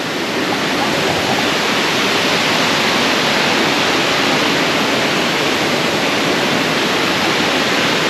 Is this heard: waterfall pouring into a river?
yes